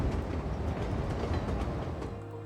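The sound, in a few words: person imitating a choo-choo train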